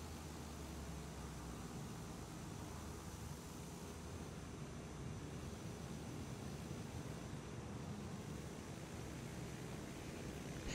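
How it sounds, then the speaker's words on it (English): A Boeing 777 airliner taxiing nearby in a flight simulator game, heard as a steady, faint jet engine rumble and hiss that holds constant throughout with no talking. "That's a 777 taxiing around with its tail on the floor next to me"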